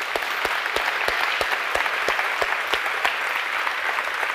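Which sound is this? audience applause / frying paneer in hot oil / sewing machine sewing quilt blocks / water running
audience applause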